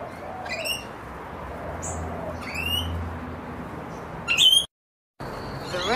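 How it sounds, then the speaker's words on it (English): Rainbow lorikeets, medium-sized parrots, give several sharp, shrill screeching calls at intervals over steady outdoor background noise, some close and loud, others fainter, with one brief dropout near the end. "Rainbow lorikeet."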